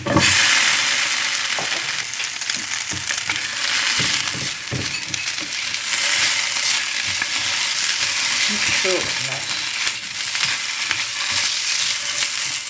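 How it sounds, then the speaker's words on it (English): Onions and chopped potatoes fry in a pan with a loud, steady, close sizzle, broken by occasional stirring scrapes and clinks, with no talking over it. "I've fried the onions for about 6 minutes, and you can see that they're starting to soften now"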